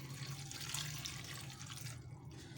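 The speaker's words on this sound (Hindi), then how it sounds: "उसके अंदर जो है हम 1 गिलास पानी ऐड कर देंगे" A glass of water is poured into a pot of apples for homemade apple jam, giving a soft, steady splashing trickle that fades near the end, with no talk.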